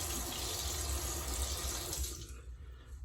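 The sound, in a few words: tap running hot water over a pipe razor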